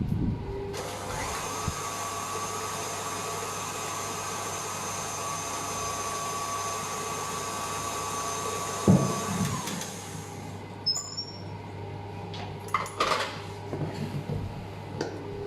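A stand mixer whirs steadily while beating cream puff batter with its paddle in a bowl, a constant motor hum that cuts off near the end, followed by a few light clinks and taps.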